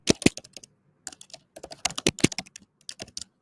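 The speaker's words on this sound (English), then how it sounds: "We can hear your typing, and I love it." Fingers typing on a computer keyboard, with close, crisp clicks arriving in quick uneven bursts separated by short pauses.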